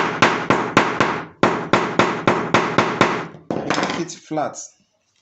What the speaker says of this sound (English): So you bring your hammer, you hit this, you hit it,